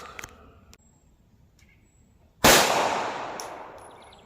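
A single sharp gunshot from an Ammo Inc .380 ACP 90 grain jacketed hollow point fired from a short barrel into homemade ballistic gel, a loud close crack that decays over about two seconds, preceded by faint clicks and handling noises.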